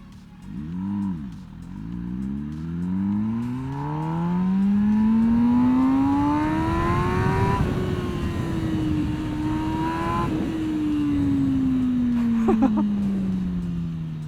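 A 200+ horsepower MV Agusta Brutale 1000 RR motorcycle at Assen revs up loudly through rising and falling engine sweeps, held close, with a few crackling burbles toward the end.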